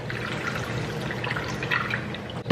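Water poured into a blender while making a tropical fruit smoothie, a steady trickling splash running close by throughout, ending with a sharp knock.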